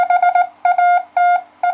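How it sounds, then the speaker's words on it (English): A steady 700 Hz CW tone from a homemade superhet receiver, keyed in four clean bursts of Morse-like on-off pulses, close and clear with no voices. "right on the frequency I want, I'm outputting 700 Hertz"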